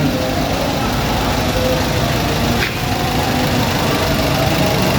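A Toyota Avanza engine with a DLI ignition fault runs unevenly, a loud continuous close rumble with a slight dip midway.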